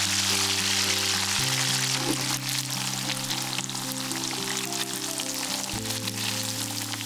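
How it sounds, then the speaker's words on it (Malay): Turmeric-coated tempeh and tofu cubes fry in hot oil with a steady, dense sizzle and crackle, close and continuous, while a low background drone and tones run underneath. "Kemudian goreng sampai separuh garing."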